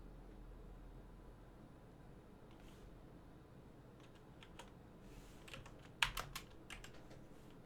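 Code being typed on a computer keyboard, with sparse quiet keystrokes building into a brief cluster of sharper, closer clicks over a low background hiss.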